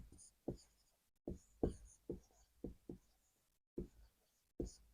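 Marker or chalk writing on a board during a Hindi mathematics lecture on determinants and triangle area: a series of quick, tapping strokes in irregular rhythm, close and moderately faint, with no talking between them.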